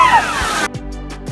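A rushing water splash as a giant great white shark leaps from the sea at bait, a loud surging wash followed by a few heavy sloshing thumps.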